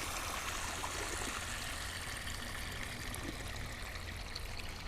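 Water draining and trickling from green olives being strained, a continuous close splashing stream with a steady, even flow and no voices.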